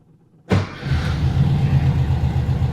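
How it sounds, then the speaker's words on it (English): A 1969 VW Beetle engine cranks and fires right up after a hot start with no gas, then settles into a steady, loud close-up rumbling idle with slight revving. "No gas, fires right up."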